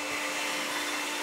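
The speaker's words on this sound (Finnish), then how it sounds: "nyt imuroidaan vaan kaikki paskat pois ja putsataan pinta" A vacuum cleaner sucks up drilling debris from a freshly drilled hole in a camper van, its steady whining roar loud and close, holding one even pitch throughout.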